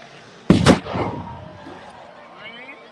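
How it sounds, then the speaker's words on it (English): A single heavy cannon blast at a Virginia Tech Hokies football walk booms out loudly, then echoes and rumbles away into a faint crowd murmur. "Oh, you heard the cannon right there."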